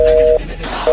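Phone call cut off, followed by a short electronic tone that beeps twice, steady and loud, with a brief gap between the two beeps.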